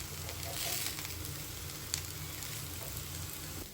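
Kebabs spiced with homemade garam masala fry in a pan, a steady close sizzle and crackle over a low hum, with one small clatter as a piece is turned.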